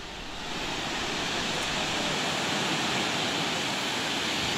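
A heavy, steady roar of water rushes through the lifted gates of the Tungabhadra dam during a high inflow. The broad, loud wash rises in the first half second and then holds constant, with no voices.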